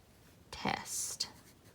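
A short stretch of writing on paper, a quick scratchy scribble of strokes lasting about a second, close and quiet against a soft room background, with no talking.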